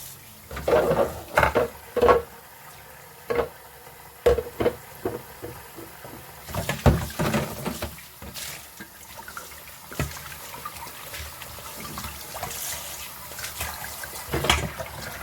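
Dishes being washed in a water-filled kitchen sink, with splashing, running water and the clatter of pots and plates knocking together in irregular bursts, close and fairly loud, without talk.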